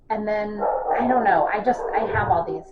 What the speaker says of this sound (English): I'm sorry if you can hear my dog barking in the background